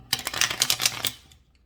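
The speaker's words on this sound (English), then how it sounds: "can't hurt to shuffle a little bit more," Tarot cards being shuffled by hand, a quick burst of crisp riffling flicks lasting about a second close up, then fading to quiet, with no talk.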